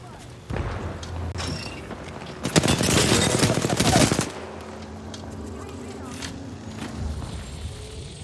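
Gunfire in the video game Apex Legends, a loud burst of rapid shots in the middle followed by scattered fainter shots, with speech in the background.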